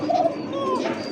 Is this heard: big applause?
no